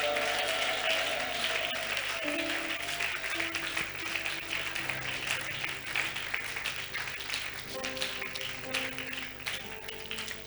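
A church congregation applauds together in a dense, steady wash of clapping that lasts throughout, with sustained musical tones running faintly underneath.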